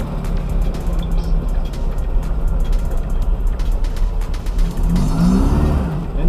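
A car engine runs steadily while driving, with a continuous mechanical drone and rattling texture, rising briefly near the end as it revs.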